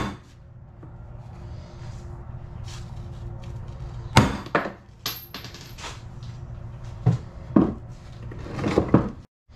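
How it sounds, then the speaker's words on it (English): Sharp metallic hammer blows knock at an original U-joint on a 2004 Jeep TJ rear driveshaft, several irregular loud strikes ringing against steel in a quiet garage, spaced out with pauses between hits. "that one fits just inside the ring, so we can hammer it out"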